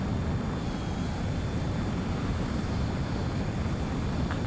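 A base commander's transport aircraft takes off in Ace Combat 7, giving a steady, unbroken engine roar with a low rumble that holds at one level throughout.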